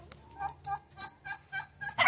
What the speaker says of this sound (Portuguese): Olha a perua mamãe lá, aquela branquinha.